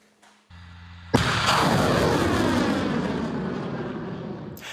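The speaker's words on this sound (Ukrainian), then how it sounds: "Лічені секунди і ракети, випущені з Хаймерса, досягають своєї цілі" HIMARS rockets launching near Pokrovsk: a low engine hum gives way to a sudden loud blast, then a dense, sustained roar that fades only slowly over several seconds, with no talking.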